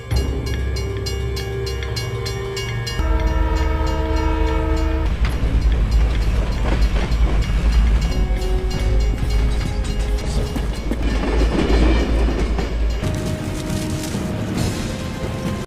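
A train passes close by, loud and sustained, with long sounding horn blasts over a heavy rolling rumble and clattering wheels.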